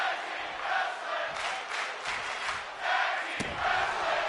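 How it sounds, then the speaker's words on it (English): A crowd cheers at a tag team wrestling match in a video game, a continuous roar with a few swelling bursts and a sharp impact near the end, heard at a moderate level. "Crowd cheering for tag team wrestling."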